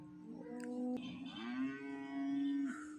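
One cow at a cattle and buffalo-calf market gives a single drawn-out moo that rises and then holds for about two seconds. It sounds somewhat distant and soft, with no talking.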